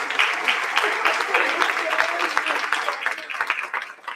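Attendees at a school board meeting applaud an employee, a moderate burst of clapping that thins and tapers off, with some voices murmuring underneath.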